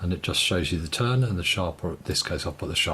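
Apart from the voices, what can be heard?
No everyday noises stand out.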